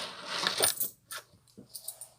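Coins from a collected pile worth about 8,000 won drop and clatter onto a hard surface in several quick bursts of bright metallic jingling, close and fairly loud, with short quiet gaps between the bursts.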